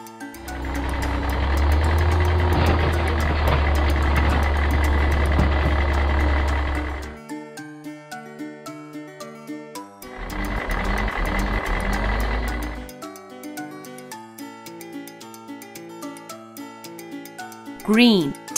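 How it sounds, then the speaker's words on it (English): A garbage truck's engine rumbles loudly for several seconds, cuts out, then returns briefly, with tonal background sounds between the bursts and a short loud sweep at the end. "Green garbage truck."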